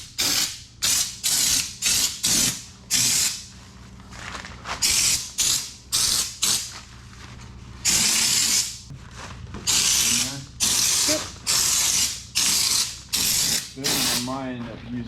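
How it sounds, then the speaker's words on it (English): A spray gun applies Raptor bed liner to a Honda Pioneer 700 side-by-side in loud repeated hissing bursts, each lasting about half a second to a second, separated by short pauses, close and steady throughout. "You want to hold the gun a ways away, otherwise you'll blow off what you just did."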